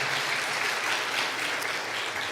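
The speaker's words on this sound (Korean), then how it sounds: "여러분 박수 한번 주세요." Steady applause from a church congregation, dense clapping held at an even level throughout with no voices breaking through.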